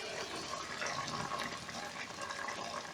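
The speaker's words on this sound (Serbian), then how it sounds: "U međuvremenu sam dodao čašu vode, pa će to da se dinsta" A steady, even rush of a glass of water pouring into a pot of peas and pork, continuous for the whole stretch at a moderate, close level with no voices.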